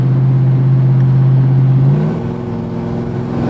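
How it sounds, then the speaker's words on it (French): A V8 car engine on a California drive revs loud and close with a steady drone, then the pitch dips and settles into a lower, even hum after about two seconds. "Allez, encore un petit coup sur la pédale. Couple du V8."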